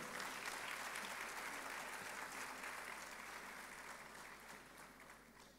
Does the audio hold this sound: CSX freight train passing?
no